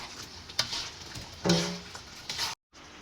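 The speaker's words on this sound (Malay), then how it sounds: "Masukkan ayam ya" Chicken dropped into a frying pan with coconut milk and chili sauce, giving a short burst of sizzling amid light stirring clicks, then a brief cut to silence.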